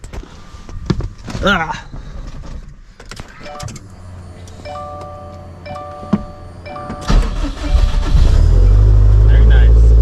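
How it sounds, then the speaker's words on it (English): Subaru Impreza STI Type RA with a BBR 500 package doing a cold start: cabin clicks, chimes and rustling, then the engine cranks and catches into a loud, steady idle near the end, with a brief voice earlier. "So let's fire this thing up, do a cold start for the boys"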